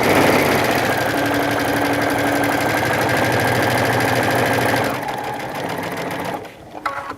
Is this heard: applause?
no